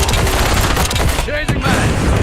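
Heavy, loud automatic gunfire from Call of Duty: Warzone, a dense unbroken stream of rapid shots with impacts, briefly dipping before resuming.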